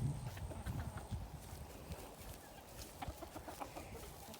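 A small rooster clucks softly in low, scattered bursts amid faint rustling and footsteps, quiet and close, with no other voices.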